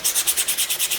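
Sandpaper rubbed by hand, without a sanding block, across a filler-coated 3D print, making quick, close, rhythmic rasping strokes, about nine back-and-forth passes in a second.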